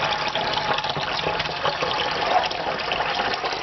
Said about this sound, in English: just rinse it under cold water, and that just squeezes out all the excess buttermilk